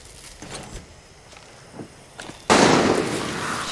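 Gunfire in the Far Cry 6 video game: a few faint distant pops, then a sudden loud crack that leaves a sustained noisy rumble.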